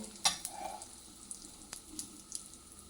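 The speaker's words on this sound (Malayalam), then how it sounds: "ഇതിനി സിമ്മാക്കിയിട്ട് കായം മൂക്കട്ടെ കേട്ടോ കൂടുതൽ ചൂട് വേണ്ട" Soft, steady sizzling of asafoetida frying in hot oil on low heat, with a few faint clicks and light pops.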